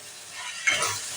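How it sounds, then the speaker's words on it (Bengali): Chicken stirred in a pan with chili, cumin and coriander powder, a close scraping stir over a soft sizzle that swells partway through. "এবার এটা দিয়ে ভালো করে নাড়াচাড়া করব।"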